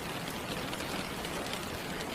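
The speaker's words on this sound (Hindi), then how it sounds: "मूसलाधार बारिश और जोरों से कड़कती बिजली के बीच रुद्र ने कार का रेडियो ऑन कर दिया" Heavy downpour used as a sound effect for a stormy night makes a dense, steady hiss that stays constant, with no distinct thunder crack standing out.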